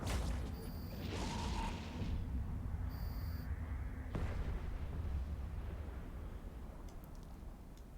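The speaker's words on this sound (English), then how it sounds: "It's about one missile every 2 seconds." Missile launchers on a ship in the space game Eve Online fire with heavy, booming launch thumps that recur every few seconds over a continuous low rumble of engine and ambient drone.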